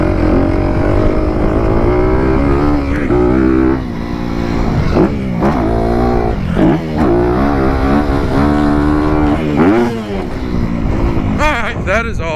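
A motocross dirt bike revs loudly and continuously on a track, engine pitch rising and falling through acceleration and a finish-line jump, close to the rider with a voice briefly audible over it.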